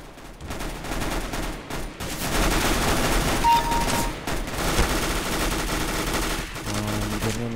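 Counter-Strike: Global Offensive gunfire, rapid bursts of automatic shots and scattered single shots trading back and forth at close range, fairly loud throughout, with a player talking briefly over the action.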